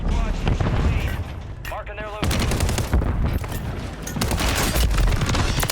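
Dense bursts of gunfire and booming blasts from the video game Warzone rattle continuously, loud and close, with an excited voice shouting over the chaos.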